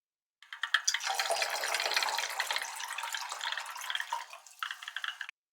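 Water poured into concentrated nitric acid in a lab vessel, a continuous splashing, bubbling pour lasting several seconds, close and moderately loud, ending with a few final drips.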